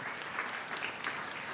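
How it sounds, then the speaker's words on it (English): A short burst of steady audience applause at a health and recovery conference, dense and even throughout, with no talk over it. "if you can help me give a round of applause to Lisa for putting this together in 2 days"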